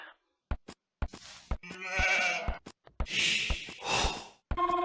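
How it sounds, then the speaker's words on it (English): Sheep bleating in the video game Age of Empires II, several short wavering bleats in a row between brief clicks, fairly loud and close with no talk over them. "Oh, some more sheep."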